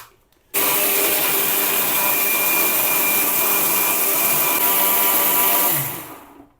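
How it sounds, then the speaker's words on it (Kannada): A mixer grinder blends masala paste with added water, roaring at full speed in one loud, steady, continuous whir for about five seconds before cutting off and winding down. "ಈಗ ಇದಕ್ಕೆ ಸ್ವಲ್ಪ ನೀರನ್ನು ಆ್ಯಡ್ ಮಾಡಿಕೊಂಡು ಗ್ರೈಂಡ್ ಮಾಡಿ"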